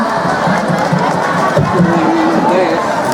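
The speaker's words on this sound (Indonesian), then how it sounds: "Mari kita berikan tepuk tangan yang meriah untuk kita semua." Loud crowd noise at a religious lecture gathering, a dense roar of cheering and shouting voices mixed with clapping, sustained and close throughout.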